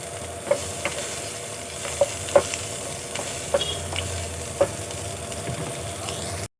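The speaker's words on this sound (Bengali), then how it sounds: "প্রথমে পেঁয়াজটা একটু হালকা ভেজে নেব" Onion frying lightly in a pan for homemade pasta, a steady soft sizzle with a low hum beneath and several sharp clicks or taps of a stirring utensil spaced through the stretch, no voices.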